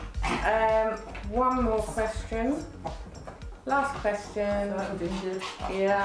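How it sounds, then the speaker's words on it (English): An excited dog runs in during an indoor interview, whimpering and yipping in short bursts mixed with close conversation between two people. "That was a dog just running in, just to let you know. Very excited."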